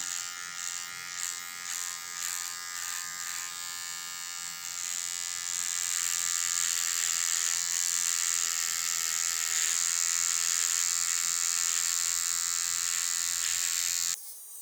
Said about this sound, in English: I'm gonna shave for you